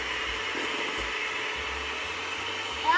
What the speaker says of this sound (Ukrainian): Можна так так голосно говорю, бо збиваю цукор яйцями.